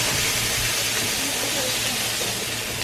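Meat sizzles steadily on a hot Korean BBQ grill, a constant loud hiss and crackle with a faint low hum beneath.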